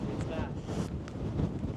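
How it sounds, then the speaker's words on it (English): Strong wind buffets the microphone on a windy mountain hike in the Silvermines Mountains of Tipperary, Ireland, producing a brief, dense, rumbling gust that roars close up throughout. "It is windy, alright."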